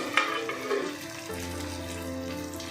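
Small chhena (paneer) koftas frying in hot oil, a bright crackling sizzle with a few clinks and stirring scrapes early on, then settling into a steady close bubbling hiss.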